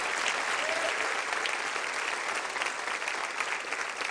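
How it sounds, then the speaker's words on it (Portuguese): Steady applause rolls through a church congregation during a salvation service, a thick continuous clatter of many hands holding at an even, fairly loud level, with a voice faintly audible underneath. "Vamos aplaudir, irmãos."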